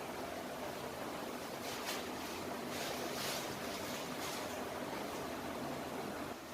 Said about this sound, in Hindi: पापड़ियाँ मैंने डाल दी है फ्राई होने के लिए